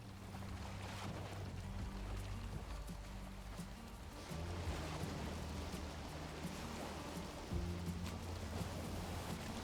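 Steady rain patters over a stormy sea in the video game Valheim, a continuous soft hiss with sloshing water beneath a small Karve ship, faint and even throughout with a slight swell partway through.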